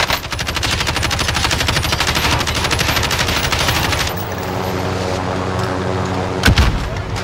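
Sustained rapid automatic gunfire in a multiplayer shooter game, loud and continuous for about four seconds, followed by quieter scattered shots with one sharp loud report near the end.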